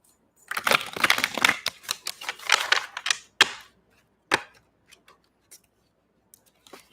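A Mythic Oracle card deck of Greek-themed cards is shuffled by hand, producing a quick burst of crisp riffling clicks followed by a few isolated taps as the cards settle, close and clear.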